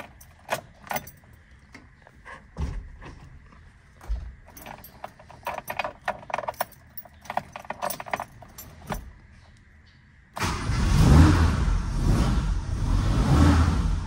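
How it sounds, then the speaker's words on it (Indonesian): Keys jangle and metallic clinks for several seconds, then a car engine starts and revs loudly, a deep rumbling exhaust, freshly weld-repaired, that holds steady near by. "Suara knalpot udah aman."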